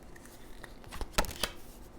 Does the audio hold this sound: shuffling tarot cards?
yes